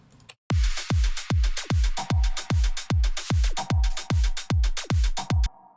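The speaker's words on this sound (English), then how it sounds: "And then we also included the hi-hats as well." Hi-hats ride over a sidechained trance synth in an Astra Destiny remix, pumping in a steady, loud four-on-the-floor rhythm of about a dozen evenly spaced swells, each ducking sharply before the next beat.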